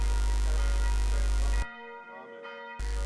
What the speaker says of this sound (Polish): Bijące dzwony kościelne